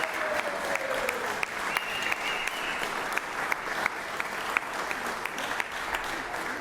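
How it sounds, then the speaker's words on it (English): Sustained applause fills the Senate chamber, dense and steady at moderate loudness with a few sharper claps, while a faint voice and a brief tone sound beneath it early on. "Give them one more a round of applause here."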